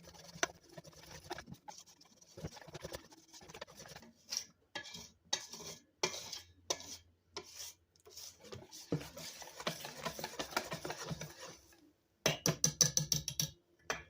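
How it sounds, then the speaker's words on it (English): Pancake batter is whisked by hand in a bowl until smooth, producing rapid rhythmic tapping and scraping of utensil against the bowl, with short pauses and a faster, louder burst near the end. "Now let's mix everything together until the batter is smooth and lump free."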